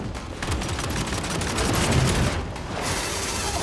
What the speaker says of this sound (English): I'm gonna shoot that one too.